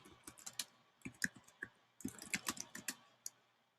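Quiet bursts of typing on a computer keyboard, irregular clusters of light clicks with short pauses between them, close and alone without talk.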